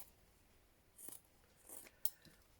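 Scissors cut through quilt fabric in a few quiet, close snips spaced across a near-silent background, with one sharper click near the end.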